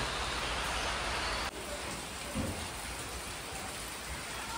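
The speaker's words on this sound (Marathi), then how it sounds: "आज आपला 7वा दिवस आहे आणि पाऊस अजून पण आहे" Steady rain pours on a Konkan village house during an unseasonal May downpour, a dense, even hiss that holds unbroken from start to end with no voices.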